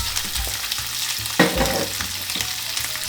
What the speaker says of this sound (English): heat your frying pan again and put the prawn meats into it